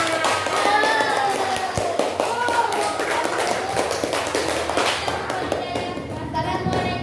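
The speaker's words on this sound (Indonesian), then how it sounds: "Oke, tepuk tangan." Children in a classroom clap their hands together, a busy run of sharp taps at close range, with voices talking over the clapping throughout.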